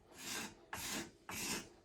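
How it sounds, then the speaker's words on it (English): A hand scraper rasps across a surface in three firm strokes, each a broad rough scrape with short pauses between, close but fairly quiet and without speech. "we'll pick up that scraper again"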